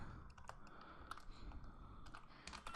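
Quiet, rapid keystrokes on a computer keyboard while typing Python code, a close, soft run of clicks with brief pauses between bursts.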